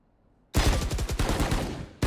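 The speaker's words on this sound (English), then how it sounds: "Headshot was there by Epi, but the Bulldog in hand, unfortunately for him" Automatic gunfire in a competitive shooter video game, probably a Bulldog rifle in a Valorant match: a loud, rapid burst starts abruptly and runs steadily for about one and a half seconds, then cuts off with one final shot.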